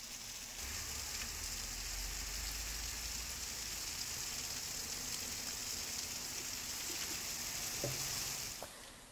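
Heavy monsoon rain pours down in Wardha, Maharashtra, a steady dense hiss that holds at an even level throughout, with a low rumble early on and no voices.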